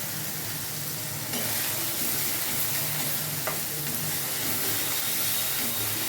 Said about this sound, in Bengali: যতক্ষণ না এখান থেকে তেল বেরোচ্ছে ততক্ষণ মশলাগুলো আমি নেড়ে চেড়ে ভাজতে থাকবো।